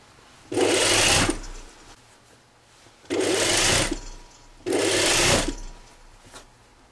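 A sewing machine stitching the neckline of a jacket up to the shoulder seam, three close bursts of rapid mechanical whirring of about a second each, separated by short quiet pauses.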